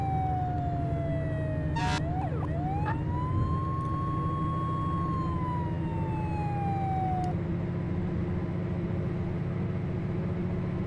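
A fire truck siren wails in the Flashing Lights firefighter video game, one long sweeping tone rising and falling over a constant engine rumble, with a short horn-like blast early on.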